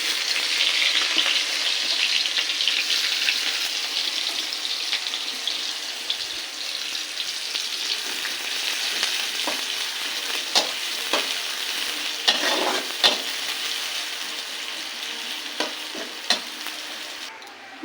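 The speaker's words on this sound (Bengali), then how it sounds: "এবার বেরেস্তা ভেজে নেবো" Onions fry in oil for birista with a loud, steady sizzle and bubbling, marked by occasional clinks and scrapes of stirring throughout.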